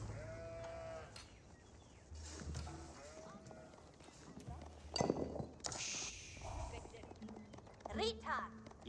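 Sheep bleating in the video game Age of Empires 4, with several short wavering bleats scattered among hoof clops and game sounds while a commentator talks over them.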